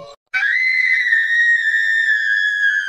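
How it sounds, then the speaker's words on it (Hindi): A woman's high scream rings out in an animated Hindi horror story about a braid-cutting witch, one long loud sustained shriek of nearly three seconds after a brief gap, fading at the end. "अचानक उसे चीख सुनाई देती है।"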